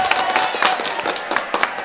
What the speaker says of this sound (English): Oh, we're cheering.